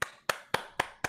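Five sharp hand claps in quick, even succession, close and crisp against a quiet room, a brief burst of applause from a small group with no speech.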